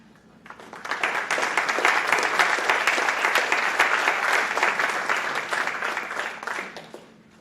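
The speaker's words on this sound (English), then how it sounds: "more big round of applause for all the signees" Applause fills a large hall for high school athletes at a signing day event. It swells quickly to a full, steady roar of many hands, holds for several seconds, then tapers off near the end.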